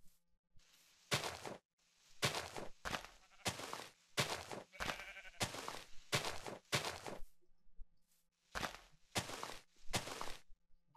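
Sheep bleating in a video game, a run of short repeated bleats in quick succession, fairly close and clear, with brief gaps between calls and no talk over them.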